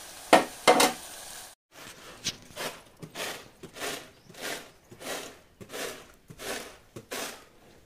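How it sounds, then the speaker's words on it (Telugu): Food sizzles in a pan while being stirred in a steady rhythm, each scrape of the spoon rising and falling about every half second, close and moderately loud, with a couple of sharper clatters at the start. "మనం ఏం చేస్తామంటే దీన్ని ఫ్రై చేసేసుకుందాం నీట్గా"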